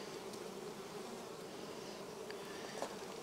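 Honey bees drone in a steady, continuous buzz from an opened beehive during a brood box inspection, a dense insect hum filling the whole moment with occasional louder passes close by.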